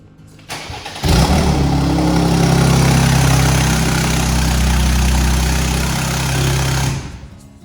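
A Rover P2 car engine with no exhaust fitted cranks and catches, then runs loudly and roughly with a raw, unmuffled roar before cutting off abruptly; no voices.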